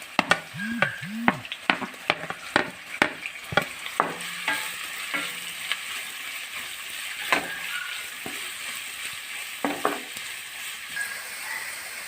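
Chopped onions sizzle in a pan for chicken mappas while a spatula clanks and scrapes rhythmically against the metal, with frequent strokes early on and sparser ones later over a steady frying hiss.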